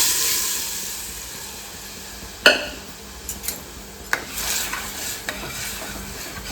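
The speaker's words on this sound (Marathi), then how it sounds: "पहिला डाळीला फोडणी देते. आता डाळ टाकून घेते." Dal being tempered in a pan gives a soft, continuous sizzle, with a few sharp clinks and scrapes of a spoon against the pan.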